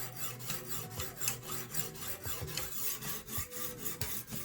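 A knife blade scraping repeatedly across the stone of a Lansky guided sharpening system, giving a close, rhythmic rasp of quick back-and-forth strokes with no talking.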